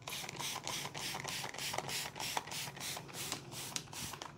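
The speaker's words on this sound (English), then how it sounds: "I will be spraying this lightly with a prophylactic spray." A spray bottle lightly mists broccoli microgreens growing on a silicone reusable grow medium, giving a steady run of close, quick trigger squirts and hissing spritzes in an even rhythm with no talk.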